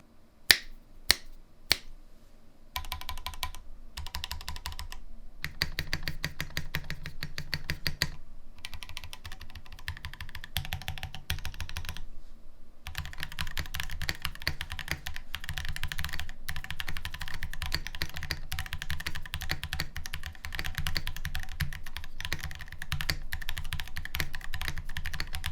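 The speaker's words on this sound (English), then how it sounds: "let's go ahead and give it a good old typing test" A few isolated key clicks give way to fast, continuous typing on a mechanical keyboard, clattering steadily with brief pauses; close and clear, no talking.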